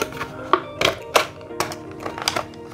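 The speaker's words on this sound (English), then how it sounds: "See, this is what scissors are made for." Scissors snip through a sticker on the packaging of a 2009 Pixar Cars Lightning McQueen toy with night vision goggles, giving several short, sharp cuts spaced across a few seconds, close and fairly clear.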